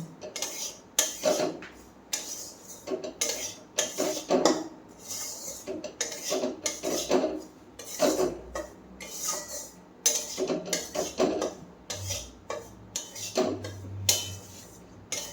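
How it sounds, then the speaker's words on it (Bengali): Semolina dry-roasting in a pan, stirred with a metal spoon: repeated scraping strokes and clinks against the pan in an irregular rhythm, fairly close, with no talking. "সুজিটা ভাজি, লাল লাল করে ভাজবো। সুজিটা ভাজতে সময় লাগে।"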